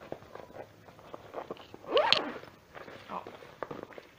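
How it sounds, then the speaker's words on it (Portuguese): A zipper on a small Avon backpack is pulled once in a quick rasping stroke near the middle, close up, while someone talks before and after. "Aí ela tem um zíper, opa, aqui desse lado."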